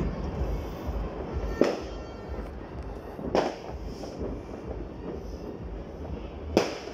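Fireworks display bursting at a distance, three sharp booms spaced a couple of seconds apart over a low, rumbling outdoor background.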